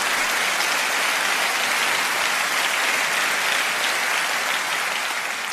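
Applause in the hall of the Conservative Party conference, a large crowd clapping in a dense, sustained roar that stays steady and loud from start to finish without speech.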